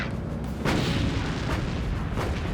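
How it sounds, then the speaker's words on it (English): Heavy 5-inch naval guns aboard a WWII destroyer blast at an incoming dive bomber, three loud booming shots roughly a second apart, each with a rumbling tail. "Laffy's 5-inch guns quickly open fire."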